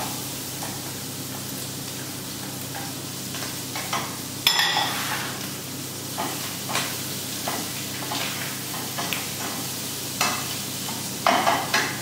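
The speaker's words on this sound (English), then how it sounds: "So we'll add our onions now and fry that off." Onions frying in a pan give a steady, moderate sizzle with scattered stirring scrapes and a sharp clatter near the middle, with no voices.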